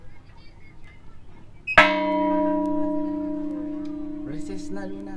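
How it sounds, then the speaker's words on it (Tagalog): A bell in Bohol struck once, ringing out loudly and then slowly fading with a sustained hum, with faint voices and background murmur before the strike and children's voices near the end. "ring the bell"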